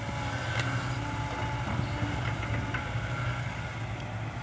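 A mid-size SK 120 Mark II excavator engine runs at a steady, low droning idle, constant and moderately distant with a faint hiss of wind over it.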